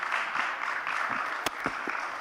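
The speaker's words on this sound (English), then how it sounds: "Let's give them a warm round of applause." Audience applause for the panelists at a conference panel session, a short burst of dense, even crowd clapping with a few sharper individual claps, moderately loud.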